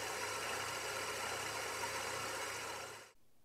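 An electric motor on bearings spins at a steady speed of about 14 revolutions per second, giving a loud, even broadband whir that holds constant before cutting off abruptly near the end.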